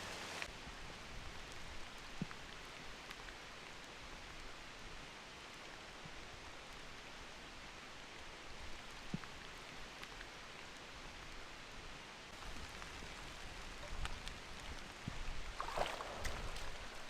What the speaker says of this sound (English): That rain does not want to stop.